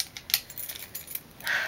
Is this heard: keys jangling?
yes